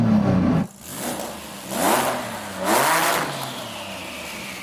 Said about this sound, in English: now Saeed is going to rev up that monster